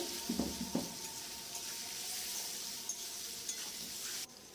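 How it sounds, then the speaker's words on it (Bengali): Potato pieces frying with salt and turmeric in a pan, a soft steady sizzle with a couple of early utensil knocks while stirring, no talking. "নুন হলুদ দিয়ে একটু ভালো করে ভেজে নেবো আলুগুলোকে"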